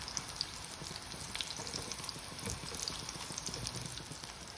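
Persian kafta kebabs fry quietly in a pan over a medium flame, a soft, continuous crackle and spatter with faint scattered pops throughout.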